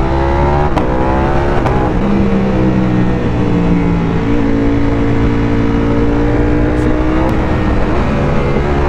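Ducati V4S motorcycle with a 215 hp engine running loud and close, a steady rich roar with shifting revs and sharp blips of throttle, no voices over it.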